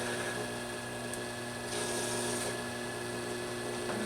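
The foot of a clay pourover carafe is trimmed on a spinning potter's wheel, giving a steady, quiet scraping and rubbing over a constant motor hum, with no pauses.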